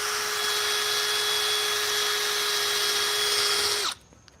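A handheld power drill whines steadily at high speed as it bores into a golf club during club repair work, then cuts off abruptly near the end and leaves quiet.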